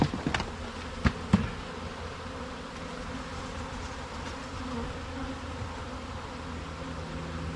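Honeybees from a hive cut-out being dumped into a box buzz in a dense, steady drone that fills the space, with a few sharp knocks near the start.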